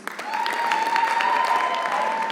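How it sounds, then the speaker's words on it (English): Comedy show audience breaks into regular applause, a sustained even wash of clapping from a sizeable crowd with a faint tonal ring running through it. "let me hear your regular applause"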